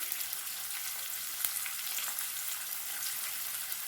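Chopped onions sauté in a pan for chicken gravy, a constant bright hiss of frying oil with a faint stir and a small knock partway through, heard up close without speech.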